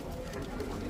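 Pigeons coo softly among a large flock of high-flyer birds kept by a breeder, a low murmuring under faint background noise.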